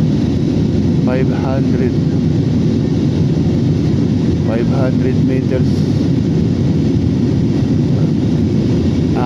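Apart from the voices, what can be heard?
airplane cabin noise in flight after takeoff, Bacolod to Manila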